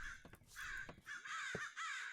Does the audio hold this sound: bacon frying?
no